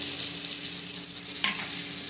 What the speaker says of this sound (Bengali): মশলাটা আমি ভালো করে কষিয়ে নিয়েছি।